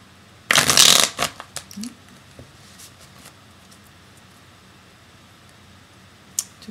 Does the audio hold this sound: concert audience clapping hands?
no